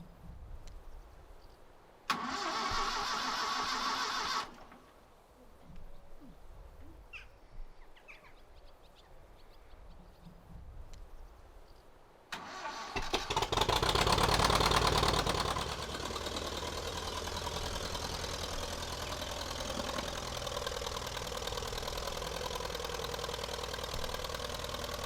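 A homemade tractor's engine cranks and catches, then settles into a loud, steady idle with a knocking rhythm, close by, after a brief earlier burst and quieter stretch.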